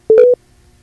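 A telephone line gives a single short electronic tone while a call is placed back to a radio caller: a clean, loud beep lasting about a quarter second, followed by silence.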